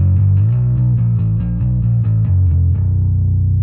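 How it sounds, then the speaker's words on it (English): Bass runs through the Softube Marshall Basstone plugin's low-end channel with slight drive, giving a loud, warm, bottom-heavy tone. Several picked notes roll in steady rhythm, then settle into a held low note, with no talking. "But this becomes my low end channel. Slightly driven still, not completely clean."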